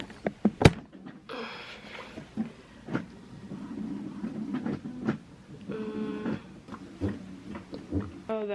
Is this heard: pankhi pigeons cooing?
no